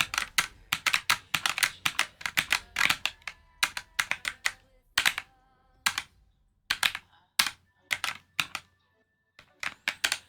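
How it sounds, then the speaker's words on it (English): Rapid, irregular bursts of key presses on a keyboard with bubble-style keycaps, crisp and close, coming in quick clusters separated by short pauses, with no talk. "these keycaps feel like bomb. They feel like sick to press."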